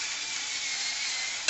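An automatic electric pepper grinder crushing peppercorns makes a steady, close, high whirring grind that holds evenly and ends with a brief louder clunk.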